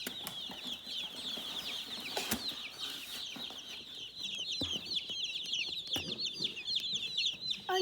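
A box of about 75 broiler chicks just arrived by mail, chirping in a dense, continuous chorus of high peeps close by, with a few thumps and rustles of the box and no talk.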